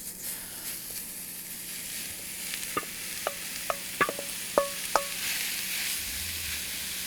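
Ground meat sizzles in a pan on a Kamado Joe grill, a steady soft hiss broken by half a dozen sharp clinks and scrapes of stirring, with no talking.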